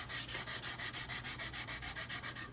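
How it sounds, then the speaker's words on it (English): Steady rhythmic rasping of a 150-grit sanding block rubbed back and forth on wood, quick even strokes close up, with no voices. "this is a 150 grit sanding block, which works great"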